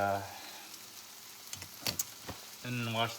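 Steak frying in hot olive oil in a pan on a home stove, a soft steady sizzle with a few crackles and pops, and someone speaking over it at the start and end.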